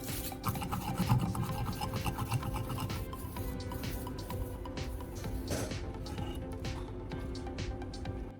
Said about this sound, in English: This finer grit removes the scratches left by the coarse sanding, smooths the blade surface, and refines the cutting edge.